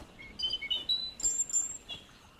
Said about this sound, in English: so I don't see the bird, but I heard the bird